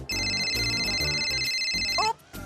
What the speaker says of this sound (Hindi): ओ, मॉम का फोन,